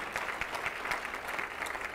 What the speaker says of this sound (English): We'd give her a second round of applause.